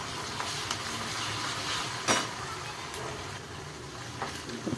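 Onion with ginger-garlic paste sautéing in a pan for dhaba-style stuffed brinjal: a soft, steady sizzle with a few light clinks of a spoon against the pan, fairly quiet and close.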